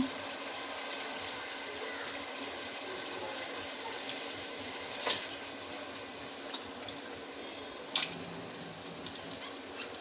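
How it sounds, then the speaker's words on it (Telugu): Continuous rush of water pouring out steadily, with a few light metallic clinks of a pot, close by and without speech. "మళ్ళీ వాటర్ తీసి వేస్తున్నాను"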